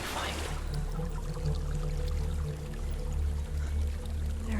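A steady, full roar of rushing water from a waterfall in the video game Hellblade: Senua's Sacrifice, continuous and fairly loud throughout with no pauses.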